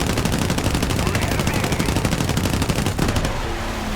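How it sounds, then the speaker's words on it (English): Rapid machine gun fire from the defensive guns of a PBY-5A Catalina flying boat in War Thunder, a dense, continuous, loud stream of shots that stops abruptly near the end. "Swing the guns over to the starboard side,"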